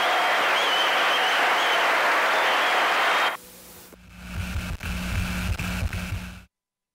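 Football crowd roaring at the Estádio Olímpico during a Grêmio versus Operário match replay, a loud sustained wash of cheering that cuts off abruptly, followed by lower rumbling stadium noise and then silence.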